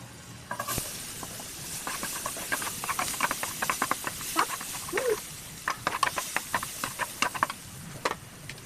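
Onions dropped into melted margarine in a pan, giving a crackling, patter-like sizzle with a sharp onset and many small pops and hisses continuing throughout, close and moderately loud with no talking.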